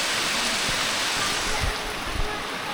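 Heavy rain pouring down in a steady, dense hiss that fills the whole stretch without pause, with a few low thuds underneath and no voices.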